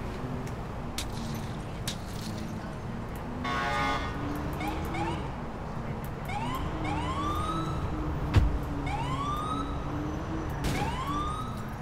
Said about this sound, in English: He was trying to yield to my siren